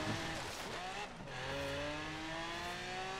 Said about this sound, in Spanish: Zona de rape con un Lamborghini